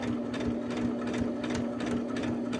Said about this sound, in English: right when I get about to the end, I turn it slightly and just sew right off the end.